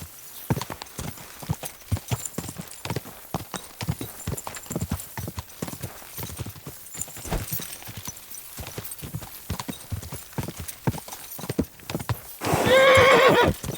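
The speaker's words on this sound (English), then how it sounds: "what a beautiful horse" A horse's hooves clip-clop steadily on the ground in Kingdom Come: Deliverance 2, a close rhythmic walking beat, ending with a loud, drawn-out whinny.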